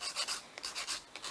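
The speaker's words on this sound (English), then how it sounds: "it's power in this fingernail file" A fingernail is filed with a nail file during a dip powder manicure, giving quick rhythmic rasping strokes, about eight short scrapes close up and fairly quiet, with no talking.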